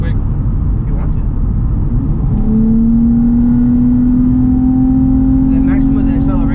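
A 2008 Nissan Maxima 3.5 SE engine revving under hard acceleration, a loud steady drone heard from inside the cabin that rises in pitch into a smooth whine, with voices talking over it.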